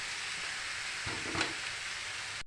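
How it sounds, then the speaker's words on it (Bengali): Chopped bottle gourd drops into hot oil seasoned with bay leaves and five-spice tempering, a dense, close sizzle with a thudding splash of pieces landing midway, no voice. "কেটে রাখা লাউ দিয়ে দিচ্ছি"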